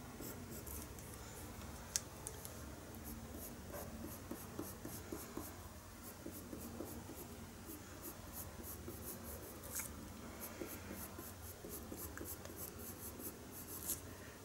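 Colored pencil burnishes paper in a horse-ear drawing, a faint, steady scratchy rubbing with short repeated strokes and occasional sharper ticks, close and quiet with no talking.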